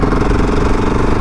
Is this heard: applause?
no